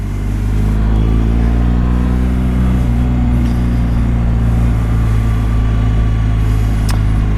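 Loud, close engine of a 2017 BMW R1200 GSA motorcycle pulling steadily up through the rev range while riding, with a rising drone held throughout and no talk.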